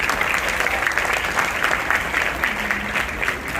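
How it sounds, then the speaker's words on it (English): Students and guests at a dental college white coat ceremony clap steadily as names are read out, a continuous, even applause from a sizeable crowd with no voices heard over it. "Please give a huge round of applause."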